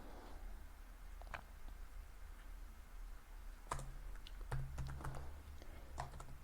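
Typing on a computer keyboard while writing a C++ variable declaration: quiet, close key clicks in short irregular bursts, sparse at first and then denser toward the end.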